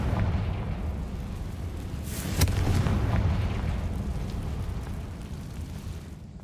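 A Confringo fire spell explodes in the Hogwarts Legacy video game, giving a loud, rumbling blast with a sharp crack near its peak that slowly fades out.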